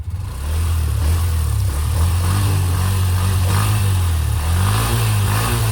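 A car engine revs hard through water near a waterfall, a loud continuous roar with pitch swells as the throttle rises and falls, spray hissing underneath throughout.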